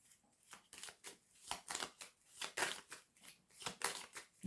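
Tarot cards being laid down and handled in a repeated rhythm of crisp slaps and shuffling swishes, close and fairly quiet, with no talk over them.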